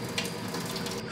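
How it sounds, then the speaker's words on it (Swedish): Some of the boiling water is poured out of a pot of softened noodles, a steady close gush and splash of liquid with no speech over it. "så häller jag ut en del av vattnet"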